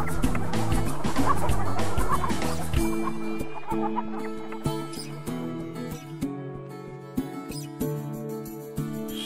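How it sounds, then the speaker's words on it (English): Hens clucking in an animated story, a busy cluster of clucks at first, then sparse clucks over sustained musical tones. "And now I have 6 hens."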